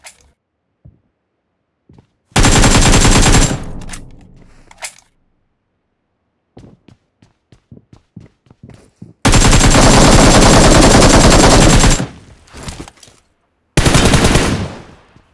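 Loud bursts of automatic gunfire from the video game PUBG Mobile come in three long sustained volleys, separated by near-silence and scattered single shots and clicks, close and harsh.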